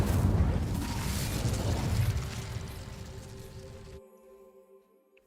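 A fire spell in the Hogwarts Legacy video game ignites dry vines with a loud rushing whoosh of flame that roars, gradually fades, then cuts off abruptly into quiet game ambience.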